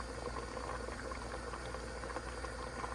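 Rice for fish biryani boiling in a covered pot, giving a steady, quiet bubbling and simmering hiss that carries on evenly with no speech.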